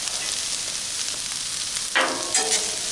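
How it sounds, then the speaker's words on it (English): Garlic and butter mixed on a Blackstone griddle over low heat, a steady hissing sizzle that ends in a couple of brief scraping strokes. "Gonna mix that garlic in, that butter."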